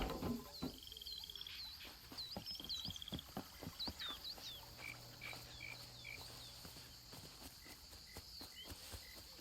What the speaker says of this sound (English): You can hear frogs